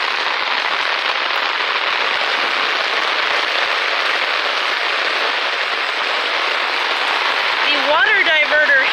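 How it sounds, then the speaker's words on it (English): Heavy rain pours steadily outdoors in an urban yard, a dense, loud, continuous wash of drops, with a brief chirping sound near the end. "it's raining pretty hard at this point"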